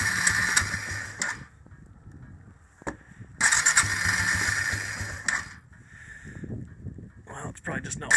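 A cold Yamaha Bear Tracker 250 ATV engine idles nearby with a rough, uneven note, rising briefly as the throttle is adjusted and dipping between bursts, while someone talks intermittently.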